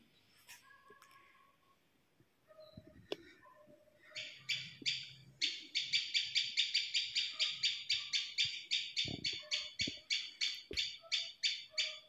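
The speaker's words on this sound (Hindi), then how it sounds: "चिड़िया चहचाने लग रही है।" Scattered bird calls at first, then a bird repeats a rapid, rhythmic chirping series, loud and close, with a few soft knocks in the background.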